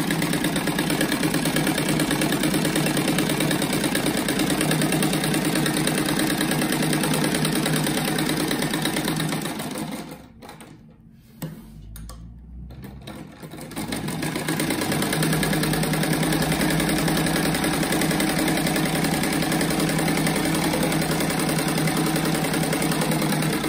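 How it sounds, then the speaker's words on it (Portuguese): A sewing machine runs continuously, stitching a seam around the edge of a fabric rug, its steady mechanical whir and rapid needle rhythm pausing briefly midway before resuming at full pace. "E agora eu vou passar uma costura em toda a volta dele"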